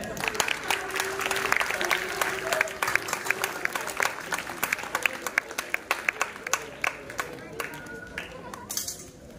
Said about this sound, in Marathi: टाळ्या वाजवायच्या आहे।